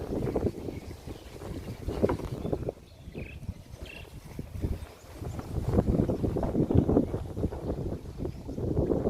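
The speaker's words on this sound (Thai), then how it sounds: "ลมก็แรงนะครับ" Strong wind sweeps across Lam Pam beach and buffets the microphone with a loud, continuous low rumble that surges and eases for several seconds.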